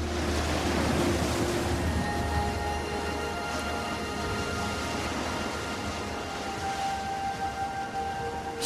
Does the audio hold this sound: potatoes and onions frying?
no